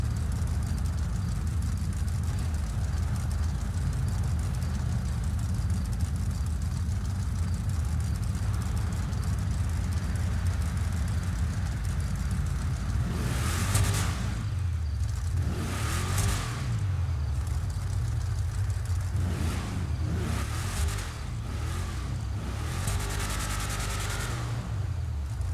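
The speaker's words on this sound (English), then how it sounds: "I will let you guys hear the idle sound as well as me revving it a couple times" Engine of a Vapid Trophy Truck in a video game idles with a steady low rumble, then several sharp revs rise and fall in quick bursts toward the end.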